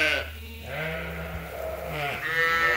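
Lambs on a sheep farm bleating, two or three close, loud drawn-out bleats in quick succession, with no talking.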